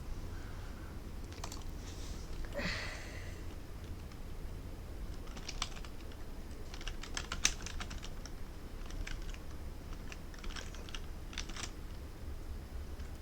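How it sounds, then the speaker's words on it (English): Bursts of computer keyboard typing in short, uneven runs of clicks, fairly close and moderate in level over a low steady hum, with pauses between runs and a brief swish near the start. "Let me type this in."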